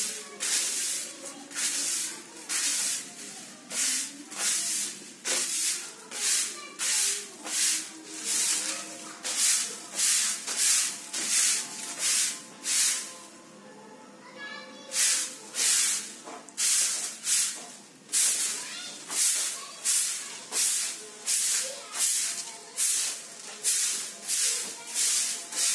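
A broom sweeps a floor in a home in regular strokes, each a bristly hissing swish, repeating close and steady with a short pause midway.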